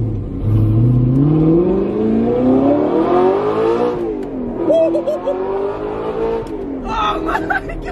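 An Audi R8 V8 fitted with a Frequency Intelligent Exhaust revs hard, its engine note climbing through rising sweeps before dropping into crackling downshifts, loud and close, with excited voices reacting over it.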